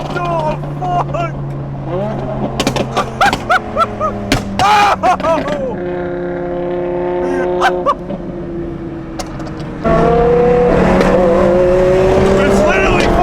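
Car engine revving hard through upshifts, with sharp pops and bangs between gears while people shout and talk loudly close by, the engine note surging and changing pitch under the voices.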